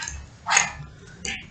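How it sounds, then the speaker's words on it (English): A pet dog barks twice during an indoor podcast recording: one loud, sharp bark followed about a second later by a shorter, higher yip, close by with no talking over it. "She's a dog."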